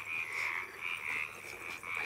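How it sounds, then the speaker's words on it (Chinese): Frogs croak at night near a rural Miao village, a steady chorus of rasping calls that swells and dips in pulses, fairly close and continuous with no voices. "是青蛙叫是吧"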